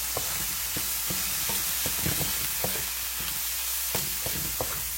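Green peas or mixed vegetables go into a hot frying pan and sizzle loudly and steadily, close up, while a utensil stirs and knocks against the pan at irregular moments.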